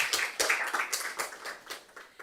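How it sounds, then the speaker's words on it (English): Seminar audience clapping for themselves, a brief burst of close, uneven claps with a sharp irregular rhythm that tapers off after about two seconds. "Please first clap for yourselves"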